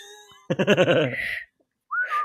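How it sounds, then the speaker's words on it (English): A person whistles a short warbling tone, followed by a brief pause and then one rising whistled note, close to the mic and alone. "Wait, just whistle for real?"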